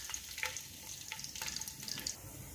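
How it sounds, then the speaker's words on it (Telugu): Crushed garlic frying in a couple of spoons of hot oil, a soft, steady sizzle with light crackles and occasional quiet stirring taps. "ఇలా కలర్ మారే వరకు దోరగా వేయించుకోవాలి"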